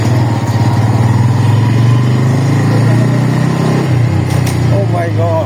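A Pulsar N160 motorcycle on the move, its engine droning loud and steady close by, with a voice talking over it near the end.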